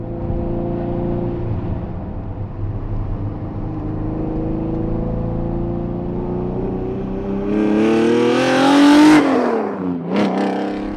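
A loud Koenig Specials Ferrari Testarossa engine idles with a rough, throaty drone, then revs sharply upward twice before dropping back down.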